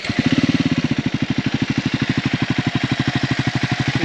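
A fuel-injected Triumph Scrambler 400X with stock exhaust idles close by, its engine beating in a steady rapid pulse with a brief rev at the start, alone with no talk.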